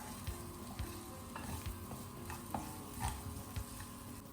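Diced potato for sabudana khichdi fries dry in a pan, giving a soft continuous sizzle. A spatula stirs and scrapes at irregular moments, and no one speaks.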